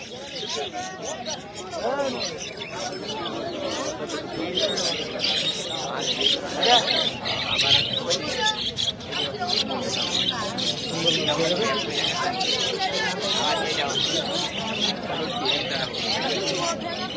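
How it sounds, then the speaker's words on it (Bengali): Birds chirping and squawking at a crowded bird market in Narsingdi, with scattered tweets and calls sounding under steady crowd babble and someone talking close by. "এই পাখিগুলো মাসাল্লাহ পাখির বাসাগুলো মাসাল্লাহ অসাধারণ"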